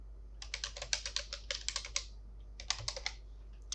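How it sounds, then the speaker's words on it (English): Keystrokes on a computer keyboard as account details are entered, two bursts of quick, close clicking separated by a short pause, fairly quiet over a low steady hum with no talking. "type in a username for your account, then your email, and create a new password for your account."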